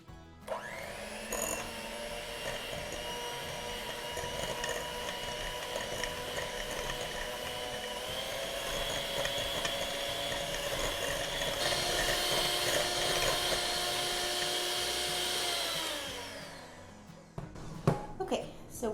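An electric mixer whips cake batter for a pineapple upside-down cake in a home kitchen, giving a steady, droning motor whine that holds for about fifteen seconds, then winds down and stops with a few clatters at the end.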